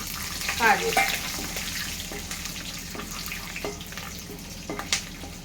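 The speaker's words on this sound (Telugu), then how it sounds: "కాజు వేసుకొని ఫ్రై అయినాయి కదా ఇవి" Cashews fry in oil in a pan for puffed rice upma, a soft steady sizzle with a few clinks and scrapes of a spoon stirring, close and moderately quiet, without speech.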